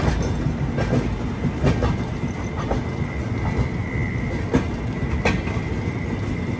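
The Visakhapatnam to Varanasi express runs at speed on rails, a loud, steady rumble heard from on board, broken by sharp, irregularly spaced clicks of wheels crossing rail joints.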